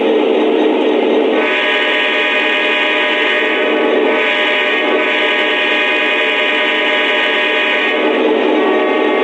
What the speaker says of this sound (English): So you just heard the default horn.